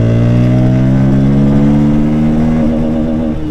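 A Bajaj Pulsar N160 motorcycle engine accelerating in second gear, a loud, close, steady drone that rises slightly in pitch before easing off near the end, with no talking.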